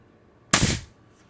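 A single sharp, loud burst from a Pistelle X-68 airsoft carbine on 800 psi HPA, a quick hissing pop that tails off in under half a second against quiet surroundings.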